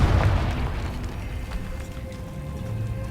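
A Confringo spell explodes in Hogwarts Legacy with a deep, heavy boom at the start, then a long rumbling decay that fades under a low ambient hum.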